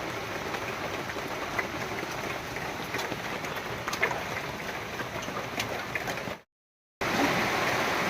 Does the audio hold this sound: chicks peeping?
no